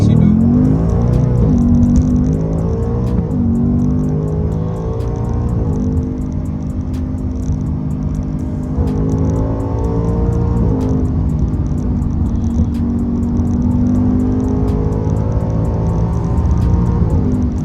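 A new Ford Mustang GT engine roars steadily under hard acceleration, the pitch climbing and dropping in repeated surges as gears change, loud and close with no talk over it.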